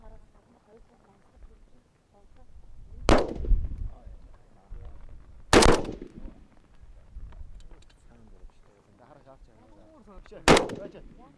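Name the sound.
gunfire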